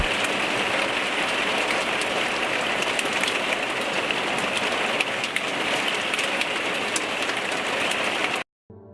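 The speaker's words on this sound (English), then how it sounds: "and it really rained" Heavy rain pours steadily during a mountain thunderstorm, a dense, loud hiss of drops drumming on surfaces that runs unbroken and alone until a brief cut near the end.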